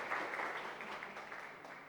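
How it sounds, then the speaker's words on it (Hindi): An audience claps for a candidate being named at a 2nd Grade Sanskrit teacher results announcement, heard as faint, continuous, fairly distant applause held steady for a couple of seconds. "जोरदार तालियां इनके लिए।"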